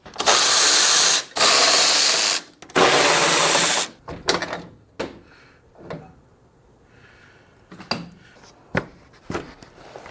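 Power tool bursts whir in short loud runs while a grab handle is taken off a 2024 GMC Sierra truck bed, followed by scattered clicks and clanks of parts being handled nearby.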